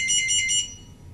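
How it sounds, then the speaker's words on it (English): A short, bright electronic beep from an OPN2002 barcode scanner pulsing a few times in quick succession, then cutting off into quiet. "hear the OPN2002 beep"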